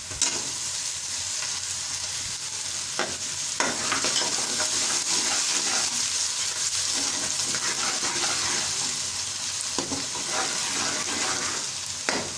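Onions and garlic paste fry in a pan for a spiced meat dish, giving a steady loud sizzle with repeated scraping stirs throughout and no talking.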